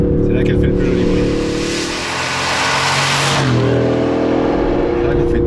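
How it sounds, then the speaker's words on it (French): A 2019 Aston Martin Vantage AMR with manual gearbox, driven in track mode, roars loudly from inside the car, its engine note rising and dipping through a shift. "Puissance mode track parce que c'est là qu'elle fait le plus joli bruit."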